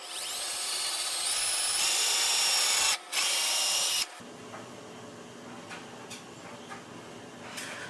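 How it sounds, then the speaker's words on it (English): A power drill whines loudly into wood for about four seconds, briefly dipping mid-run, then fades to quieter handling and workshop noise. "I'm going to drill one hole in here and one hole in here"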